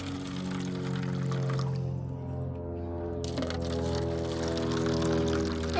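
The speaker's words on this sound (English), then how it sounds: "All right, then we're gonna add water." Water is poured into cups holding dye tablets for coloring eggshells, a steady pour lasting several seconds over a constant low droning hum.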